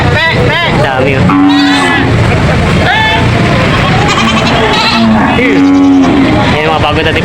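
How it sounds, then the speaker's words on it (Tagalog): Goats bleat repeatedly at a livestock auction market in Lucena, their cries rising over a busy crowd of voices, other animal calls, and general commotion. "Maraming kambing na dumating."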